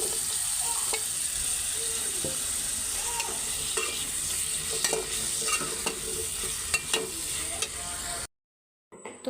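Shrimp and potatoes sizzle steadily in spiced masala in a pan, with continuous frying hiss and repeated scraping and clicking of a stirring spoon, ending in a sudden cut to near silence.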